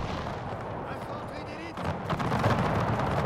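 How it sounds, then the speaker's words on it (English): Rockets land amid a Napoleonic-era land battle in the Napoleon Era Mod game, with a steady din of distant gunfire swelling into a louder burst of impacts and crackling explosions in the final second and a half. "More rockets landing."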